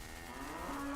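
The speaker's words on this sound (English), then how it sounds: "More cows." Cows lowing in a video game, a drawn-out moo rising in pitch near the end, steady and fairly close over a busy game background with no talk.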